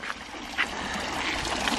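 Cold, high-pressure tap water runs steadily from a faucet while someone brushes their teeth at a camping spot aboard a ferry, a continuous hiss with faint splashes.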